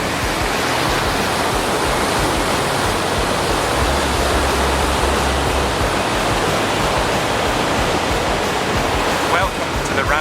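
A stream and waterfall in Glen Lethnot pour in a dense, steady roar that fills the whole scene, loud and unbroken, with a faint low rumble briefly underneath.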